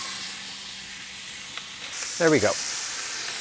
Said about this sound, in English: You can hear it starting to sizzle already.